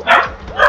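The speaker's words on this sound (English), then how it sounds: "Clifford, are you barking for me, Wimple?" A dog barks twice in quick succession, loud and close, two short sharp yips separated by a brief pause.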